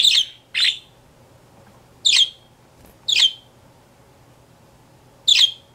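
A pet bird, said to have come from Milwaukee, gives five loud, sharp squawking calls at irregular intervals, alone against a quiet indoor background.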